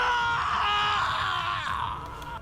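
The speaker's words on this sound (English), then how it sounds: "Eva let out an ear-splitting scream, a shrill, desperate cry of agony that shook me to my core" Woman's shrill, desperate scream of agony from the video game Hakuoki Edo Blossoms, loud and sustained for about two seconds before trailing off, heard alone without other voices.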